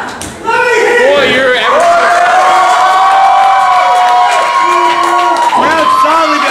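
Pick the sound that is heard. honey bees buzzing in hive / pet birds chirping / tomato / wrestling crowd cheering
wrestling crowd cheering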